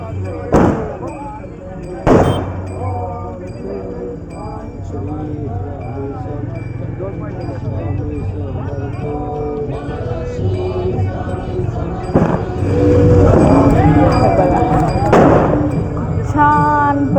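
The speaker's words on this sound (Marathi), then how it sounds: "फटाके वगैरे लावून आमचं शाळेत." Firecrackers burst as a welcome at a school along a walking palanquin pilgrimage route, with sharp loud cracks near 0.5, 2 and 12-15 seconds over steady crowd noise and voices.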